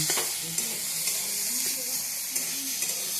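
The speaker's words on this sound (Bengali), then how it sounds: "বাটাটা হচ্ছে বন্ধুরা মিষ্টি কুমড়ার পাতা, আগে কাঠখোলায় ভেজে নিচ্ছি তেল ছাড়া।" Pumpkin leaves dry-roasting in a pan without any oil, giving a steady close hiss and crackle with light scraping from stirring throughout.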